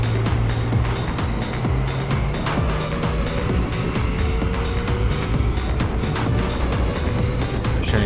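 A Yamaha MT-09 motorcycle cruising on the road, its engine a loud steady drone with a low pulsing hum, wind rush and a string of sharp repeated ticks across the ride, no talking.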